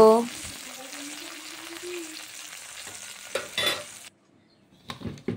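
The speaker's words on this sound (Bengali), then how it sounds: "এপিট ওপিট করে ভালো করে উচ্ছেটা ভেজে নিলাম" Steady sizzling of bitter gourd frying in a pan, with a few clinks and scrapes of a utensil stirring near the end after a brief pause.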